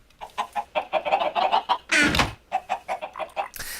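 Blocky chickens clucking in the Minecraft Tekkit mod, a rapid run of short, fairly close clucks with a brief louder burst partway through.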